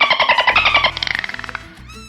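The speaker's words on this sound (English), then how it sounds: "Real dolphins sound like this." Real dolphins making rapid trains of clicks alongside high whistles and squeaky calls, close and fairly loud with the clicks speeding into a buzzing burst, no talking.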